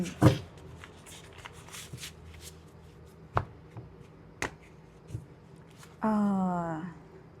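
Tarot cards being shuffled for a reading: a soft riffle at the start, a few sharp card snaps and taps, then a loud, close, sustained riffling shuffle in the final second.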